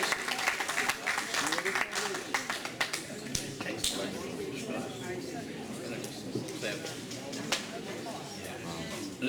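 Audience applause after a lecture on how Israel became a nuclear power, dense clapping spread across the hall and holding steady throughout, with a few sharper claps standing out near the front.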